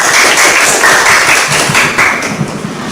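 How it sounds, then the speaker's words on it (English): Audience applause at a Toastmasters club meeting, a dense steady round of clapping from a roomful of people, loud and close, tapering slightly toward the end. "Please give him a big round of applause."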